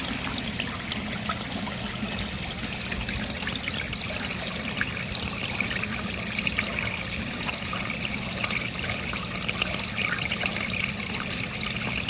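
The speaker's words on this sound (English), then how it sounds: "We also got the garden hose flowing into the deck drain, and we're testing the system out." Water from a garden hose pours steadily into a pool deck drain, a continuous close trickling and splashing rush that holds even and alone for the whole stretch.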